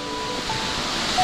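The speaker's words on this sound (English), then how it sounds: "I'm completely obsessed with how many waterfalls there are here." Steady broadband rushing of a waterfall in a misty Austrian mountain forest, a continuous even roar with no breaks, heard close and fairly loud on its own.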